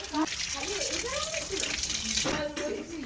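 Tap water runs and splashes while something is washed by hand, continuous and fairly close, with voices talking over it throughout.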